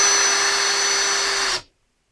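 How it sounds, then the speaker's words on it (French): A cordless screwdriver held vertically drives a screw into wood, a steady high motor whine running close and loud for about a second and a half before stopping abruptly. "On tient la visseuse verticalement, voilà, si besoin on cède en appuyant sur le haut de la visseuse, et c'est parti, on visse tranquillement"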